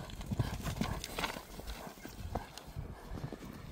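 A horse's hooves trot on hard ground, giving a quick, irregular clip-clop close to the microphone, with faint background sounds between the steps.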